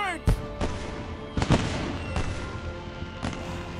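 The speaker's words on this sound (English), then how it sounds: "Hey! Fireworks!" Fireworks in an animated family movie pop and crack in several sharp bursts over a continuous soundtrack, with a voice speaking at the start.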